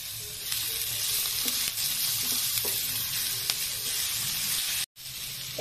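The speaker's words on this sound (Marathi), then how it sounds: "आणि आता थोडासा टोमॅटो नरम पडूपर्यंत आणखीन थोडंसं परतून घ्यायचं." Onion, tomato and soaked cashews sauté in a pan for palak paneer, a constant close sizzle with light spatula scrapes and taps, one short gap near the end.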